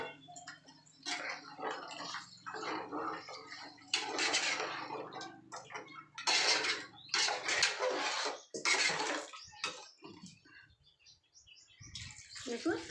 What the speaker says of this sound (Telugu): కొంచెం నీళ్ళు వేస్తున్నాను. అది ఉడకాలి కదా.